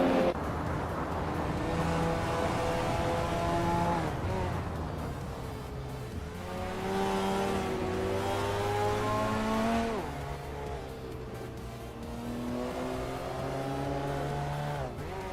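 Engines of race cars in a simulated racing game drone and rise and fall in pitch as they accelerate and shift, steady and fairly loud throughout, with several cars layered together.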